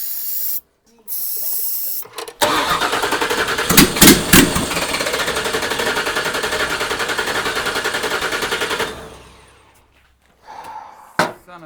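A 1979 Toyota Cressida fitted with a 5.4L V8 cranks and fires, giving a loud, rough, rapid chatter that runs for several seconds before cutting out, with brief bursts of noise before and after.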